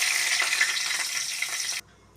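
Bay leaf and cumin sizzle in hot oil as a bright, dense frying hiss, close and steady, with faint stirring underneath. The sound cuts off abruptly near the end, leaving near silence.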